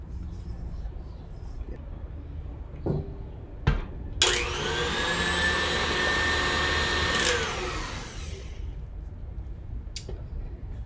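An electric mixer whips chocolate vegan Swiss meringue buttercream in a roughly three-second burst of steady motor whir, near and moderately loud, framed by a few sharp knocks of the bowl or tools before and after.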